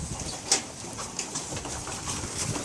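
Racing pigeons cooing softly in a loft, low murmuring coos from several birds under a steady background hiss with a few light flutters and taps.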